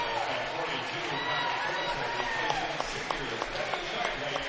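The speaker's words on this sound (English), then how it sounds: "Cody Shively and Riley Stauffer, 2 of the seniors, will take a seat to a nice round of applause" Crowd applauding in a high school boys basketball gym as seniors take a seat, steady clapping mixed with crowd noise and an announcer talking over it.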